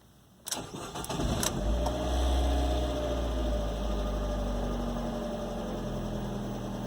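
A 2013 FIAT 500 Pop automatic engine turns over and settles into a steady, low idle rumble, close by, with a faint electrical hum underneath.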